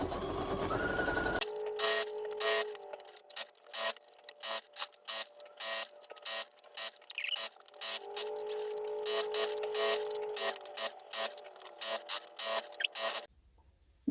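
A sewing machine back stitches a fabric bowl cozy, running in short whirring bursts with brief pauses between them, close and fairly quiet.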